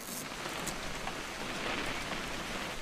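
Steady rain falling in the video game What Remains of Edith Finch, a continuous dense hiss of drops across the whole stretch with no other sounds.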